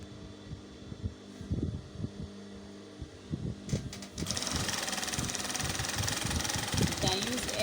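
A sewing machine stitches down the opening side of a patch pocket, a low steady motor hum running under a person's talk, then growing louder and more continuous in the second half.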